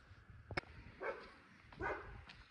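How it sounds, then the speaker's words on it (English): An unfriendly dog barks twice, short and fairly distant, on a lumpy, steep mountain road in a German village in Argentina, with a sharp knock heard just before. "Unfriendly dog."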